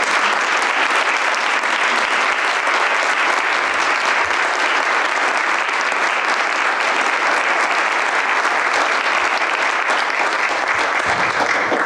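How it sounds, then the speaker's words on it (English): A county board meeting audience gives a loud, sustained round of applause, a thick unbroken roar of many hands clapping from start to finish. "So let's give a round of applause to these people"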